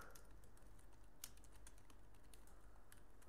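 Someone types text on a computer keyboard in a quiet room, with a run of faint, rapid key clicks at an uneven pace and one slightly sharper tap.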